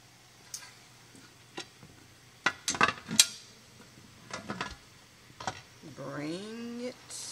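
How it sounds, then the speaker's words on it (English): Metal clanks and clinks sound up close as a lid goes onto a pressure canner used for baked beans, with a few scraping knocks. A voice is heard briefly near the end. "So I'm going to put my lid on."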